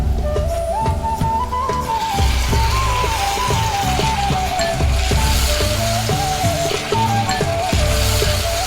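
Chicken drumsticks frying in a pan as soy sauce goes in, a loud, dense, continuous sizzle and crackle close up, with a wavering tone running over it and no talk.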